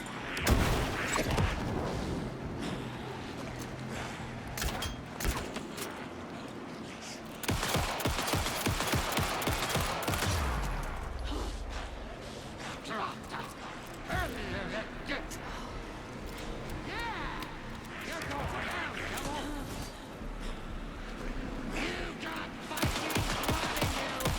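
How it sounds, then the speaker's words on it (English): Rapid bursts of gunfire in Alan Wake 2, with repeated sharp shots and volleys firing close and loud, broken by short gaps, while a voice talks over the action. "Shoot him to pin him down."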